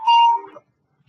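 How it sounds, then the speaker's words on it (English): In a philosophy lecture classroom, a mobile phone rings with a brief clear electronic tone that falls in pitch and cuts off after about half a second, then silence. "That's my phone."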